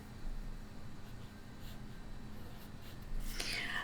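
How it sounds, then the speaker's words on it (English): A teacher writes the number 49 on a worksheet, a soft, close scratching of pen or pencil across paper that runs steadily throughout, with a brief brighter scrape near the end. "I'm going to write 49 on mine"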